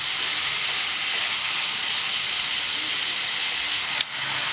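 Tomatoes sautéing in a pan for chicken salna throw up a loud, steady, close hiss of sizzling that holds level throughout, broken by a single sharp click or scrape near the end; no voices.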